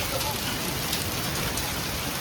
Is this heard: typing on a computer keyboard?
no